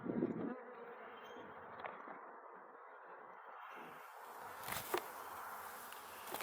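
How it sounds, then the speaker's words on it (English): Dense buzzing of many honeybees swarming close by around an open hive, a continuous droning hum with occasional louder passes and faint thuds. "there's so many bees on this"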